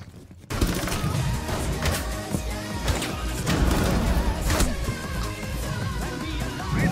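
Dense gunfire from the video game Rainbow Six Siege: rapid bursts and overlapping shots with thuds and crashes, loud and continuous after a brief quiet start.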